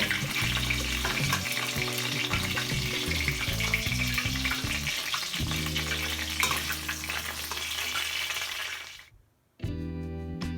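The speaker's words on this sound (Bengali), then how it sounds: "মাছের মাথাগুলো ভালোভাবে ফ্রাই হয়ে গেছে" Fish heads frying in oil over medium flame for murighonto, a loud dense crackling sizzle that continues steadily, drops away briefly near the end, then resumes.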